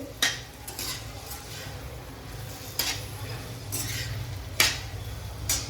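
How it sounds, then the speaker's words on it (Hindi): Salt and asafoetida being mixed in a pan for a papaya curry, soft background sizzle broken by a few sharp spoon scrapes and clinks against the pan, no voices. "इनको अच्छे से मिक्स करेंगे"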